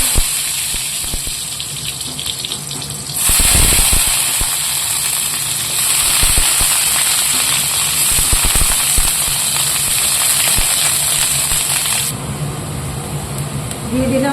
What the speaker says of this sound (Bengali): তেল গরম হয়ে গেছে, দিয়ে দেবো শুকনো লঙ্কা